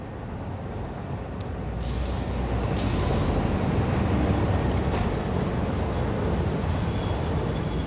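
A jammed train in the video game Satisfactory gives a loud steady rumbling roar with a hissing air-brake burst partway through, a continuous dense mechanical wash lasting about eight seconds with no speech.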